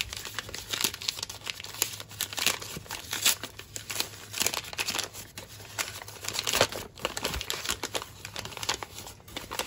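Packaging around a menengiç soap is unwrapped, a continuous close crinkling and crackling of wrapper with small tearing bursts, busy and irregular throughout.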